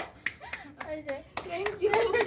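A small group claps hands for prize winners at a picnic game, with short scattered bursts of applause mingled with a child's and adults' speaking voices.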